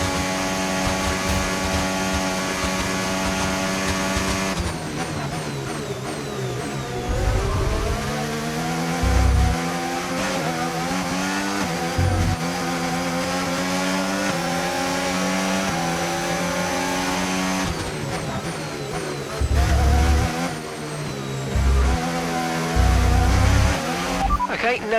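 An F1 car engine in the F1 25 video game howls steadily at high revs, climbing and dropping through gear changes with a few low thumps, loud and continuous with no talking.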